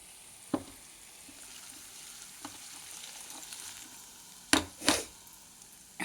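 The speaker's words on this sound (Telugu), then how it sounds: "ఈ పోపుని ఇందులో వేసుకోవాలి, టమాటా పచ్చడిలో వేసుకోవాలి." Hot tempering poured into tomato chutney, sharp sizzling bursts near the end after a few light clinks and stirs in an otherwise quiet kitchen.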